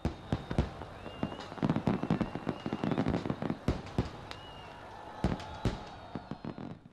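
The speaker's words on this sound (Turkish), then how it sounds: "Azerbaycan'da yeni yılı havai fişek gösterileriyle karşıladı." Fireworks crack and boom in a New Year display in Azerbaijan, sharp bursts scattered irregularly over a steady crackling backdrop, with faint whistling rockets rising between the louder reports.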